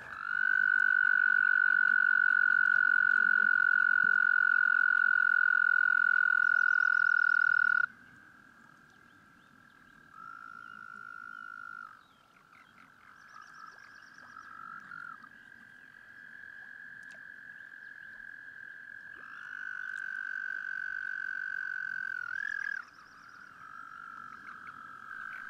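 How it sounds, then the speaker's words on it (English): Loud, sustained trilling calls from male toads in spring, one long continuous trill up close followed by quieter overlapping trills from several others. "Male toads also sing to attract females. They inflate their air sacs and produce a loud trill."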